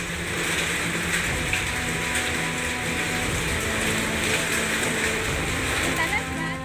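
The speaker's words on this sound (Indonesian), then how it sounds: "butiran es yang jatuh di atap rumah warga mengeluarkan suara keras" Hail falling on house roofs in a residential village in Boyolali, Central Java, a dense, continuous rattling patter of ice pellets, steady and fairly loud throughout, with no voices.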